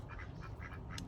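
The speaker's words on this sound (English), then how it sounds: "We've got 2 male ducks" Two male ducks on a small high-desert farm quack in a quick run of faint, nasal calls, heard briefly at a distance over low background noise.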